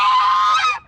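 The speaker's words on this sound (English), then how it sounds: "That is a goose, yeah." A single goose on a California centennial farm gives one loud, close honk, a harsh nasal call held for most of a second before cutting off.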